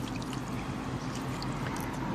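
Water pours steadily onto dry garden plants such as broccoli, kale and mint, giving a continuous soft splashing trickle at close range with no talk.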